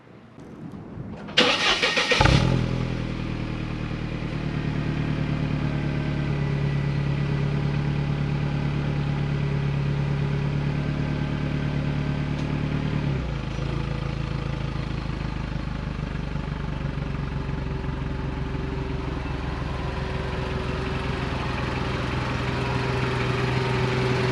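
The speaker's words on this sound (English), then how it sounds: "So I obviously have pulled out the car, it's warming up." A 1998 Mercedes-Benz SLK engine cranks and catches with a loud burst, then settles into a steady, rumbling idle as it warms up, running on without voices.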